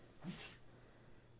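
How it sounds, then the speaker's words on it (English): A cat lets out a single short, sharp sneeze at close range, faint against a quiet indoor background with a low steady hum. "He did a big sneeze."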